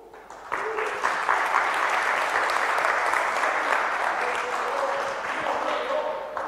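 Audience applause at a Spanish-language talk, a dense crowd of clapping that breaks in abruptly and holds loud and steady for several seconds without speech.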